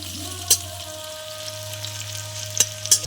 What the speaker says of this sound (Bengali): পেঁয়াজ কুচি দিয়ে দিলাম। ভালো করে ভাজা করে নেব।